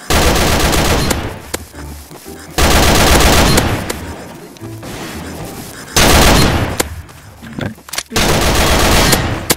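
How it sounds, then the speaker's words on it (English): A death ray fires in Garry's Mod DarkRP: loud, dense bursts of rapid gunfire-like blasts arrive in several long volleys separated by short gaps, close and harsh. "I just shot you with a death ray."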